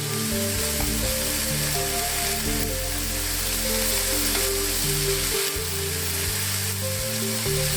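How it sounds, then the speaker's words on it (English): Onions and bacon frying in oil in a pan give a steady, loud, close sizzle that runs without a break, with a soft musical backing underneath and no talking. "Give the onions and bacon another minute so the onions start to caramelize and the bacon starts to get crisp."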